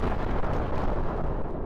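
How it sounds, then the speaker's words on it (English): A bomb fired from a cannon explodes, a loud, dense rumbling blast that fills the whole short moment with no break. "it still ended up exploding the bomb"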